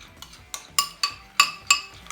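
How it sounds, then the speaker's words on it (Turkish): Spoon stirring burger sauce thinned with pickle juice in a bowl, giving a handful of bright clinks and scrapes against the side at an irregular, unhurried pace, close up with no voices. "Güzelce karıştırıyorum iyice."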